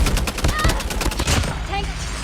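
Rapid bursts of assault rifle fire in a video game, a dense string of close shots that fades into a quieter tail, with game voices and effects mixed in.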